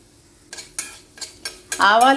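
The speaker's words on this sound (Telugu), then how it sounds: "light colour మారేదాకా వేయించుకుంటామండి" Cumin and cashews frying in a pan for stuffed brinjal curry, with four or five sharp stirring scrapes and a rising sizzle that swells loudly at the end.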